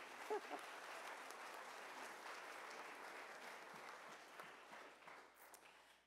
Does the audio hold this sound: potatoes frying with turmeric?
no